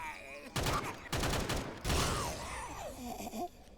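Repeated bursts of gunfire aimed at a Smoker in Left 4 Dead 2 on expert difficulty, three loud close volleys mixed with groaning, gasping infected sounds and game clatter.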